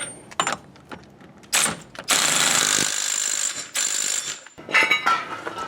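Power tool spinning and ratcheting an axle nut tight on an S13 240sx, short rattling bursts followed by a longer sustained buzzing run, then more clipped hammering pulses, close and loud.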